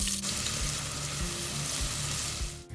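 Sliced onions sauté in hot coconut oil for a Kerala-style beef kurma, a steady close sizzle and crackle with faint scraping of a stirring spoon, no voices.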